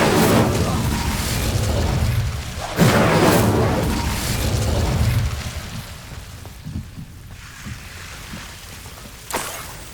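A whooshing burst of the Incendio fire spell in Hogwarts Legacy, two loud roaring surges in the first half that fade into quieter crackle, with another brief thump near the end.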